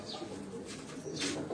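Soft throaty cooing from Lal Badshah pigeons on a rooftop, two brief low calls close by at moderate volume, with no voices.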